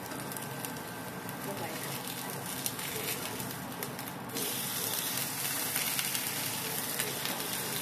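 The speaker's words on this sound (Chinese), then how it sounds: "这个大概要煎一分钟，一分钟之后翻面" Wagyu beef steak pan-frying, a steady broadband sizzle that carries on for the whole stretch and grows a little louder partway through.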